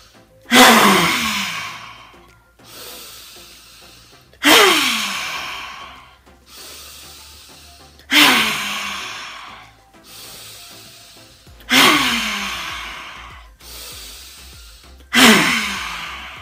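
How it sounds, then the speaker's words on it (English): Kali breath, also called lion's breath, a forceful yoga pranayama: five loud, sharp exhalations spaced about every three to four seconds, each a breathy rush that fades out, with quiet inhales between. "Kali breath, breathing in."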